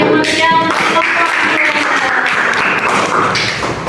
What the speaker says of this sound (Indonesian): tepuk tangan yang meriah untuk kelompok